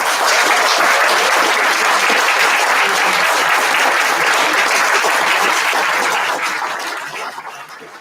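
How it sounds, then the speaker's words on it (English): A large audience at an awards night applauds the thirty nominees with dense, loud, sustained clapping that holds steady for several seconds before thinning and fading out at the end. "Could I please have a round of applause for every single one of them?"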